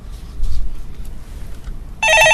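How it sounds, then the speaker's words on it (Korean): A telephone rings on a live call-in stock market show, a loud electronic trill starting near the end after a quiet stretch. "예, 전화 바로 받아보겠습니다."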